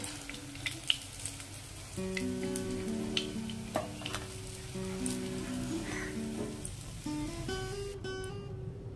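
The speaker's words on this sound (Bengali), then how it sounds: "এইভাবে বাকি ফুলগুলো ভেজে নেব।" Pumpkin flower fritters frying in hot oil, heard as a close, continuous sizzle and crackle with a few sharper pops and a low hum underneath, and no talking.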